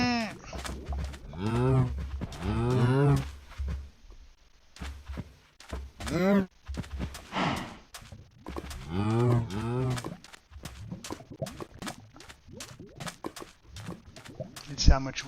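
Cows low in a Minecraft farm pasture, several drawn-out moos in a row with short gaps between them, loud and close, and a few soft thunks in between.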